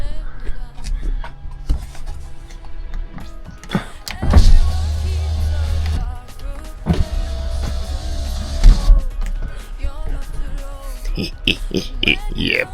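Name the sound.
car electric windows running, wired to a PDM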